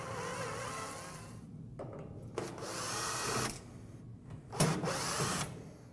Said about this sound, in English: Remove the last of the screws along the front,